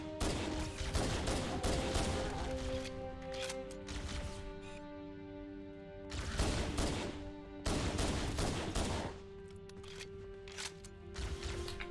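Bursts of assault rifle gunfire in Halo: CE Anniversary crackle loud and rapid, coming in several separate volleys with short lulls and a humming tone between them.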